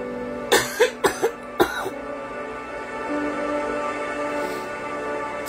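A person coughs in a burst of five or six sharp, close coughs over about a second and a half, apparently from a throat irritated by medication, followed by a steady sustained background tone with no further coughing.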